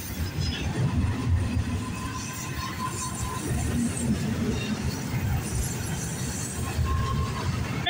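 A CN freight train rolling past at night, a steady low rumble of wagons with occasional wheel squeal and clanking, continuous and close, with no talk over it.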